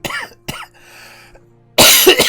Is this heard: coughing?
yes